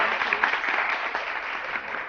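Studio audience on a morning television show claps, a brief, moderately loud burst of dense applause that stays even and continuous.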